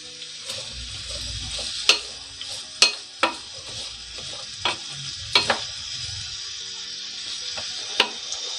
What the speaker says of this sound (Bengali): 1 কাপ পরিমাণ রসুন কুচি। এখন ভালোভাবে নাড়বো